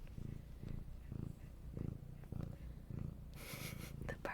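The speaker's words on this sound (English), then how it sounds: "The purrs." A cat purrs close up in a steady, rhythmic rumble of repeated breaths, with a brief rustle near the end.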